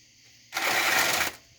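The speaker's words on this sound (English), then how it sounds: "I'm going to go back and I'm going to drill a larger hole" A brief, close whirring burst from a power drill boring a hole into a lamp part, lasting under a second before stopping.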